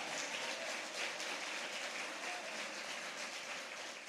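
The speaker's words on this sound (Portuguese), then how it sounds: "Aplaude a Jesus, que Ele merece." Applause fills a church service, a dense continuous roar of many hands clapping at a steady level throughout, with no talking over it.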